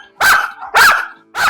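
A guard dog barks on command in three loud, sharp barks spaced evenly about half a second apart, close and clear with no talking.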